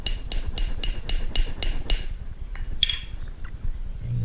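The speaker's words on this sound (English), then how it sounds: "And you can just use a regular hammer." A regular hammer strikes a boat carpet snap fastener on a workbench: seven sharp, evenly spaced metallic blows, close and loud, followed by a few lighter taps and faint clinks.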